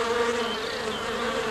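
Bees buzz steadily and close while feeding on honey by a window, a dense continuous drone with no voices and no pauses.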